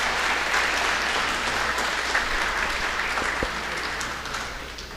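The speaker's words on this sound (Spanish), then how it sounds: "yo quiero un aplauso para ella porque es la pionera de las clínicas" Dense, steady applause from an audience at a medical presentation on heart failure clinics in El Salvador, loud and continuous throughout.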